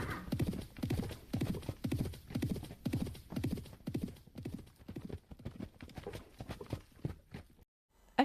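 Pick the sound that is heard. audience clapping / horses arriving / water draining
horses arriving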